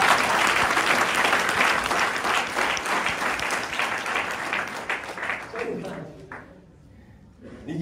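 An audience at a business proposal presentation gives loud, sustained applause that fades toward the end.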